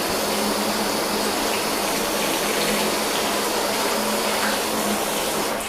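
Water from a hose rinses a car, a steady broad rushing spray heard close and continuous from start to finish.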